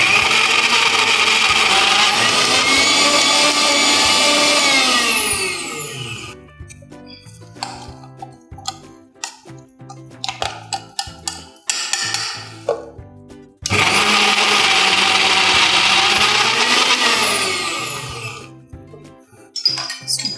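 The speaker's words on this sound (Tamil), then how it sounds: "நான் இன்றைக்கி யூஸ் பண்ண போகிற மிக்ஸி ப்ரெஸ்டீஜ் எண்டூரா ப்ரோ." A Prestige Endura Pro mixer grinder grinds chicken in two loud, close whirring bursts of about five seconds each. Between them come clinks and handling noises.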